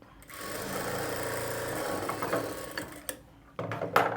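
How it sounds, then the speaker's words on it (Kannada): A sewing machine runs in a steady whirring burst while stitching blouse cloth at a quarter-inch margin, then stops briefly and restarts with a short final run, close and alone. "ಈ ರೀತಿ ಕ್ಲಾತ್ ಇಟ್ಕೊಂಡು ಕಾಲು ಇಂಚ್ ಮಾರ್ಜಿನ್ಗೆ ಸ್ಟಿಚ್ ಮಾಡಿಕೊಳ್ಬೇಕು"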